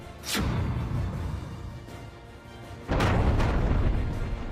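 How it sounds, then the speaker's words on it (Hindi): Explosions blow up a terrorist camp. Two heavy booms land about two seconds apart, each followed by a low, rolling rumble that slowly fades. "लाइन ऑफ कंट्रोल यानी एलओसी से 13 किलोमीटर अंदर आतंक के इस कैंप को भारत ने उड़ा दिया"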